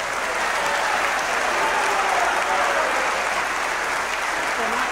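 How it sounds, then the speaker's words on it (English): Dense, steady applause from a concert audience at an opera tribute to Sergio Franchi, filling the hall at full volume for the whole stretch with no break. "a big applause to our"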